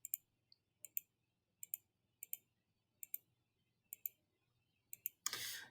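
A computer mouse clicks in quick, crisp double clicks, about seven pairs at an even pace, close and clear against near silence. A louder rustle follows at the end.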